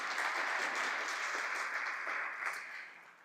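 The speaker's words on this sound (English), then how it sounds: "Yes, you can clap for that." At a Lions Day gathering with the UN, an audience breaks into steady applause, moderately distant and fairly soft, holding briefly before tapering off at the end.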